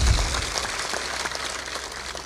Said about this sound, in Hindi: थोड़ा जोर से ताली बजाए करो।